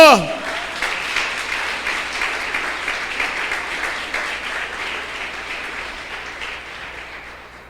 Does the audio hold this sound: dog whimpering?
no